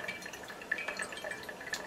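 Fermented sugar mash is siphoned into a glass jar, giving faint, scattered drips and small liquid trickles in a quiet room, with no talking.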